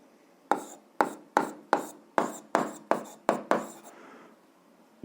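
Chalk strokes on a classroom board during an eighth-grade algebra lesson: nine sharp, evenly spaced taps and scrapes, close and distinct, followed by a softer rubbing trail.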